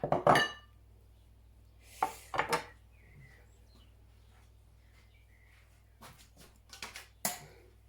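Intermittent clinks and knocks of a knife and utensils against dishes while cutting squid and shrimp, in short sharp bursts separated by quiet pauses, close by.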